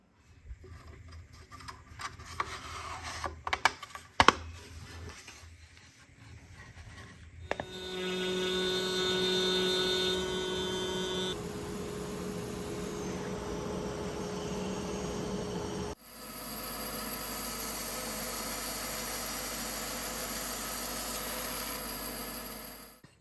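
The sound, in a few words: drilling through holes and tapping a lock body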